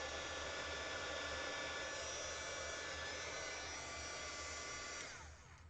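A heat embossing gun blows hot air over resin coasters, giving a steady, close, loud whooshing hiss with a motor whine, held evenly until it winds down and fades near the end.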